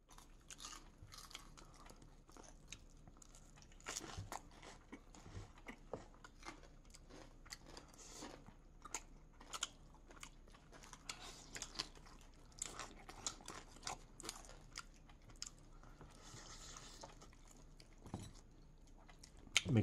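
Close chewing and biting on a baked salmon head, with irregular crunches and wet mastication sounds continuing steadily throughout, no talking.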